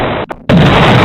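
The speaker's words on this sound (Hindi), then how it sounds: "टारगेट लॉक होता है और तभी होता है एक जोरदार धमाका" A loud explosion from a drone strike on a Hezbollah position, a sharp burst followed by a brief dip and then a sustained, heavy roaring rumble close by.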